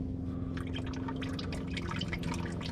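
Engine oil drips steadily from a Mazda Miata during an oil change, a series of quick small patters close by over a constant low mechanical hum, with no one talking.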